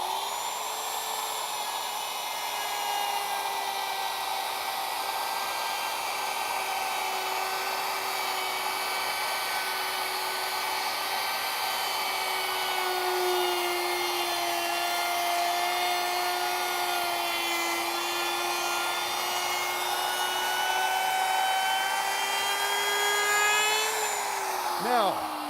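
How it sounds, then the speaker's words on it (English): A router cuts through a wooden workpiece clamped to a table, with a loud, steady high whine that holds over a long pass and then winds down at the end, with faint talk in the background. "when I'm all the way through with the cut, I do not lift this router off the workpiece until that bit comes to a complete stop"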